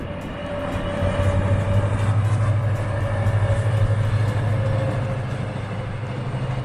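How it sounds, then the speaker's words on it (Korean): A train passes near Wangsong Lake in South Korea, a continuous low roar with a faint tonal whine, swelling slightly in the middle and easing off toward the end. "기차가 지나가고 있습니다."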